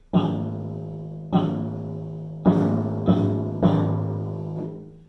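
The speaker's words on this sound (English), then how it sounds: "playing with that nice upstroke, it's like we're going to be pulling the sound out of the timpani" Five resonant timpani strokes played with an upstroke ring out one after another, each with a soft attack and a long, sustained decay, close and clear with no talking.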